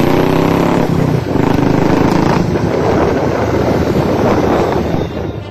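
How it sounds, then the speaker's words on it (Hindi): A Royal Enfield Bullet ridden fast through Kandivali, Mumbai, carrying two passengers behind the rider, gives a loud, continuous engine roar that rises in pitch early on, mixed with heavy wind buffeting on the microphone. "बुलेट सवार युवक दो लड़कियों को पीछे बिठाकर तेज रफ्तार से बाइक चलाता नजर आ रहा है"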